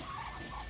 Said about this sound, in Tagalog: Ang dami ng pato.